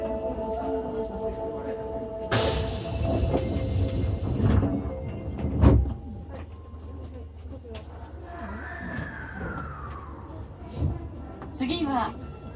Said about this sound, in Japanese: 扉閉まります。ご注意ください。